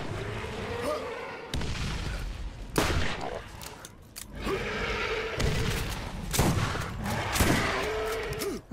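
Pistol and shotgun fire in the Borderlands video game: repeated bursts of gunshots and impacts across the clip, loud and close, in clusters separated by brief lulls, with game effects mixed in.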